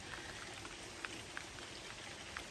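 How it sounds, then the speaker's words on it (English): Rain falls quietly outside a house during fall, a soft continuous patter with a few sharper drops now and then, faint and steady with no talk. "We're hoping this rain stops."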